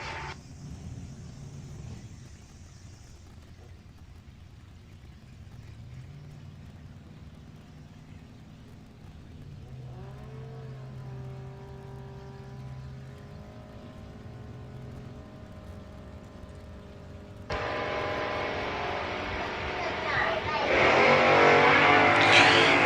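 A drag race launch pits a Kawasaki motorcycle against a 1969 Pontiac Firebird: steady engine rumble and rising revs build, then a loud, broadband roar surges near the end as both machines leave the line.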